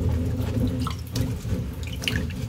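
Vegetables being washed by hand in a water-filled sink at an outdoor canning kitchen, giving a steady close sloshing and splashing with small trickles and drips throughout, and no talking.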